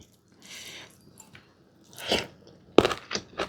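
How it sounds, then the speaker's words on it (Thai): Close, moist chewing and crunching of pickled luk nieng (djenkol beans) in several short bursts, with quiet pauses between bites. "ลูกเนียงนี้ดอง รู้สึกว่าไม่ค่อยกรอบแต่ว่าเดี๋ยว มากินดูก่อน เผื่อมันจะกรอบ"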